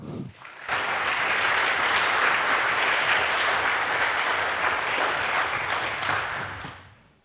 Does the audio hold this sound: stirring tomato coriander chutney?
no